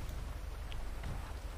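Light rain patters in GTA V near an airport where a fire is burning, a faint, even hiss of drops with no talk.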